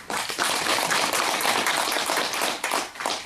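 Clapping from the audience at a Sillim District 2 redevelopment union members' briefing as a speaker is welcomed: dense, crisp hand claps fill the room steadily for about three seconds, then begin to thin out near the end.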